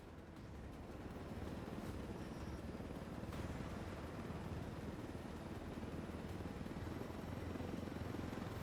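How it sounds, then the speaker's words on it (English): Helicopter in the video game Ghost Recon Wildlands, a steady rotor beat and rumbling turbine drone, constant and fairly even in level with no voices. "This helicopter is proof of what the Russians are up to."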